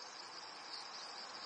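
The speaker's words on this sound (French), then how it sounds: "Ici, les grillons chantent comme en Provence, mais nous sommes dans un hangar près de Toulouse" Crickets chirp in a dense, unbroken chorus inside a hangar of an edible insect farm near Toulouse, steady and fairly loud throughout with no voices.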